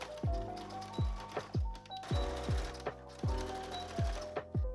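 A sewing machine top-stitches a sleeve to a dress bodice in quick repeated bursts, each run a rapid mechanical whir with clacking, separated by short pauses, close and moderately loud with no talk.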